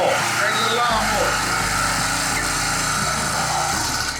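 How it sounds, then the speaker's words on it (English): The small pull-start engine of a cheap motorcycle bought on Amazon runs loud and close with a steady buzzing drone, while someone talks over it. "All you do is grab the pull start, make sure your kill start's on."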